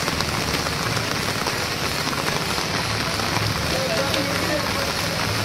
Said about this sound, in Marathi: पण यंदा खूपच जास्त पाऊस आहे